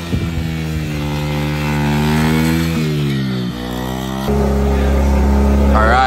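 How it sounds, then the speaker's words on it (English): A pit bike engine drones loudly and close as it rides around open land, holding a steady buzzing tone that rises and dips with the throttle, shifts pitch midway and settles into a deeper roar toward the end. "We got Nadim on the pit bike. He's exploring all the land."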